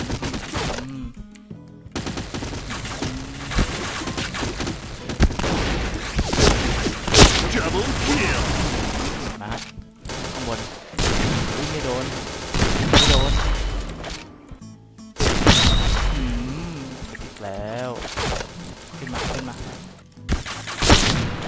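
Rapid gunfire bursts and booming shots fill a first-person shooter deathmatch round, loud and repeated in clusters with short gaps, while someone talks excitedly over the action.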